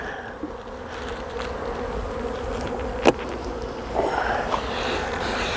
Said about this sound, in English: That's a pretty good box of bees.